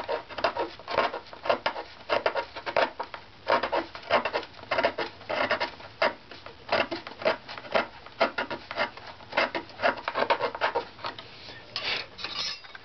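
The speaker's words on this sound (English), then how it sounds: "try to scrape evenly across the strip here" A scraper works evenly across a strip of a wooden violin back plate, making a dense run of short, rhythmic rasping strokes, close and fairly loud, with no talking.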